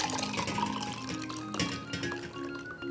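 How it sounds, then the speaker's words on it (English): Freshly made apple cider poured into a cup, a continuous close liquid stream with a gurgling, filling sound. "Now pour it on into this cup."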